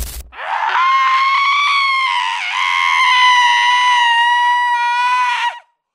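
A schoolgirl screams hysterically in a dramatized scene, one long, loud, high-pitched wail that holds for about five seconds, wavers in the middle and then cuts off abruptly.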